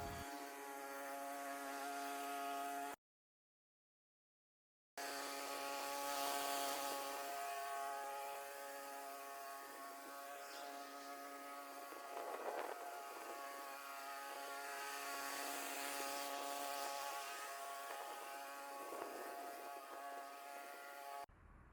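Lawn scarifier machine running over a moss-riddled lawn, a steady buzzing motor whine with strong harmonic tones that carries on continuously after a short gap, at close range with no speech.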